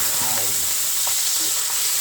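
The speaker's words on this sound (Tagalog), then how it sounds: "bago tayo mag-umpisa magluto, medyo ipiprito natin sandali ito" Chicken pieces fry in a pan, a loud, continuous hiss of sizzling oil with faint stirring clinks and a brief murmur of a voice underneath.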